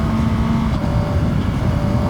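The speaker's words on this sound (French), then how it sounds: "Oh, ça m'avait manqué de rouler en CBR 1000." A Honda CBR 1000 superbike at speed on a hilly race circuit, a loud continuous engine drone with wind rush, steady and close throughout.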